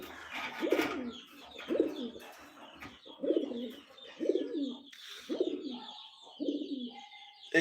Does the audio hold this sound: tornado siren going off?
no